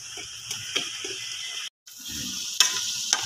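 Spice masala with tomato sizzles in hot oil in a pan, a steady close hiss broken by scraping stirs and a brief gap, with no talk.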